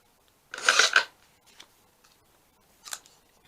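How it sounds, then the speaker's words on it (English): Scissors cut through white paper for a small tag base, with a close rasping snip burst near the start and a shorter snip later, separated by near silence. "And try to cut this to the best of my ability."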